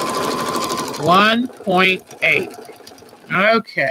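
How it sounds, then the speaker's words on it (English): A sewing machine set to a 1.8 stitch length runs through quilt fabric for a quilt block, a steady close mechanical whir lasting about a second, followed by a voice talking. "I'm going to stitch right on this line"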